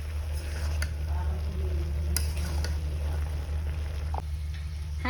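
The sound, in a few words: small fish frying, stirred in a wok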